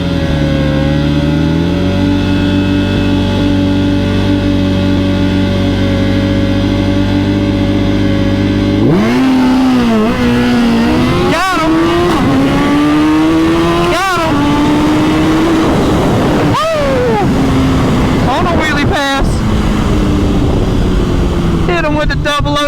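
A 2022 Suzuki Hayabusa roars through a wheelie launch at a grudge drag race, steady idle giving way to a sharp, loud rev with rapid upshifts and rising pitch, voices talking over the engine noise.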